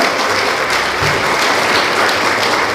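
A large crowd applauds at a public citizens' forum on a Busan independence movement memorial park and history hall, dense and loud clapping filling the room steadily throughout.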